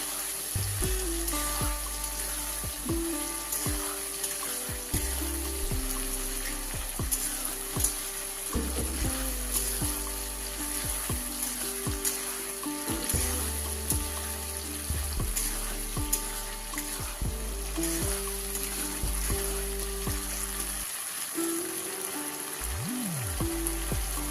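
Chicken cooks in a pan with spices and garlic paste for a spicy red curry, a soft steady frying sizzle running under a rhythmic, tonal background music track.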